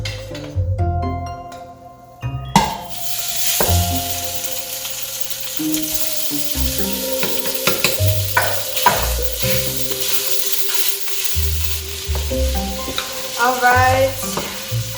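Sausage browns in a pan for stuffed peppers, giving a loud, continuous sizzle. A spatula stirs and scrapes against the pan, with occasional clinks, and no one speaks.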